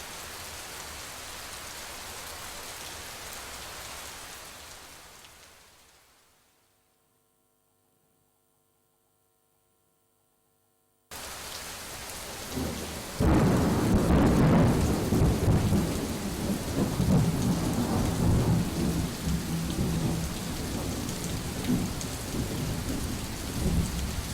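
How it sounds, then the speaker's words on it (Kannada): Heavy rain with thunder over Bengaluru: an electrical hum fades to a few seconds of silence, then a loud, dense downpour roars in with low rumbling thunder underneath. "ಕಳೆದ 3 ದಿನಗಳಿಂದಲೂ ಕೂಡ ಕಂಟಿನ್ಯೂಸ್ ಆಗಿ ಸಿಲಿಕಾನ್ ಸಿಟಿ ಬೆಂಗಳೂರಿನಲ್ಲಿ ಮಳೆಯಾಗ್ತಾ ಇದೆ."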